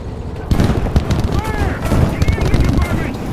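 20 mm cannons fire in a video game in dense, rapid bursts of booming shots over rumbling explosions and artillery. A voice talks over the barrage.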